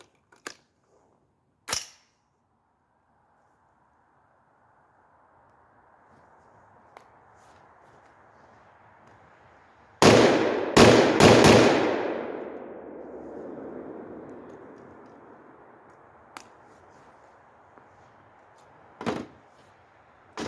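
Rifle shots from a .308 with a 16-inch barrel and flash hider, fired outdoors: one sharp crack early, then a rapid string of three or four loud reports with a long ringing decay, and a final single shot near the end.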